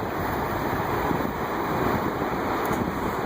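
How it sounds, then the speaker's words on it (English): Ocean surf rolls along the shore at Kona on the Big Island of Hawaii off Ali'i Drive, a steady wash of waves mixed with wind rumble on the microphone. "And here's the ocean."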